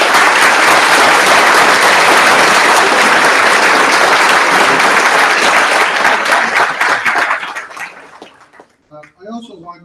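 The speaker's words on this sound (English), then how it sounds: "Let's give these people a round of applause." Audience applause at a Kansas political gathering, a loud, dense wash of many hands clapping that holds steady for several seconds before tapering off into scattered claps and near silence.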